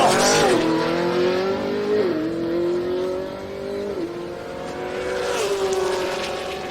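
Loud drag racing engines launch down the strip, with a big Buick station wagon among the cars, revving hard through repeated rising gear shifts roughly every two seconds, with tire noise and no talk.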